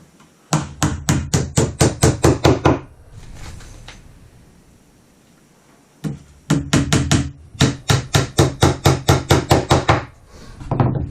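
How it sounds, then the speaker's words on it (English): Hammer blows drive nails into the side of a wooden planter box, two long runs of rapid, evenly spaced strikes close by with a short pause of quieter handling between them. "Try to make an even line with your nails as you're nailing."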